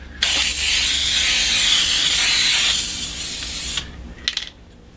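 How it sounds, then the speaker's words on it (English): Cleaner sprayed onto a screen printing board in one long, loud, steady hiss lasting about three and a half seconds, followed by a few short, quieter bursts. "spray your board down."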